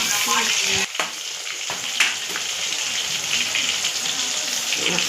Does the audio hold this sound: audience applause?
no